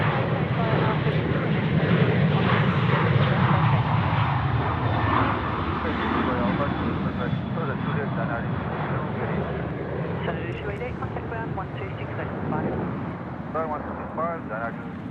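A Qantas 143 airliner roars loudly on takeoff from Sydney Airport, its engine noise strongest early and then slowly fading as it climbs away, with people talking over it throughout.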